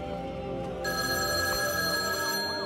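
A telephone rings in The Matrix VR game built in Dreams, a loud steady electronic bell tone held continuously and close, over a faint musical backdrop.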